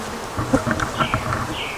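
Bees buzz steadily and loudly at an open beehive, a close, dense hum with individual insects rising and falling in pitch as they fly past.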